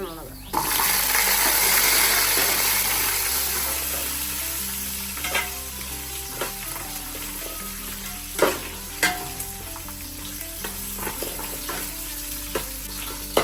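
Fenugreek, urad and chana dal, shallots, garlic and green chilies fry for sambar in a pan, with a steady sizzle and occasional clinks of a spoon. A faint tonal hum sits under the close cooking sounds.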